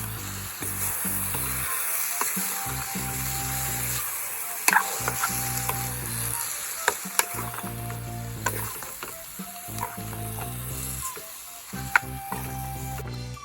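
Kerala-style lemon pickle being stirred in a pan, a soft continuous sizzle with intermittent scraping and clinking of a spoon against metal, close and quiet with no talking.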